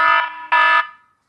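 Two loud electronic buzzer blasts, a short one followed by a longer one, used as a game-show style timer buzzer, the second fading out into silence.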